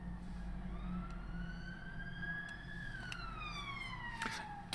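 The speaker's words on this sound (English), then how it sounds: "'Twas only a matter of time before a police car went past." A police car siren wails past in a rising and falling sweep, loud and steady throughout, with the pitch bending as it goes by.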